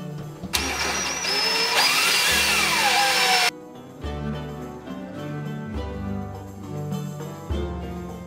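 A hand drill boring rivet holes for a helmet chinstrap, a loud high whine that rises as it bites into the material for a few seconds, then gives way to lower, pulsing motor bursts.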